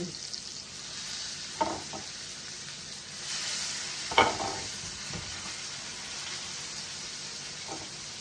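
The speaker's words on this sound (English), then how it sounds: "put them seasoned side down into the pan." Seasoned blackened cod fillets sizzle steadily in a hot pan, a continuous close frying hiss broken by a couple of louder pops and crackles, with no talking.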